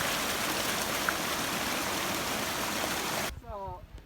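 Rushing stream water pouring along a desert hiking trail after rain, a close, loud, steady wash of noise that cuts off abruptly near the end, followed by someone speaking.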